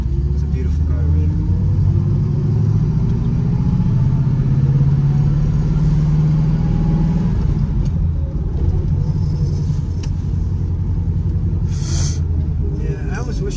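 A 1974 Pontiac Firebird Formula 400 with a four-speed manual and Ram Air drives along in a steady, heavy engine drone with low rumble throughout, with voices talking over it.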